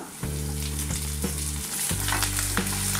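Chickpeas roast with coconut and curry leaves in a pan for Kerala-style kadala roast, giving a loud, continuous sizzle over a low steady hum, with occasional stirring scrapes.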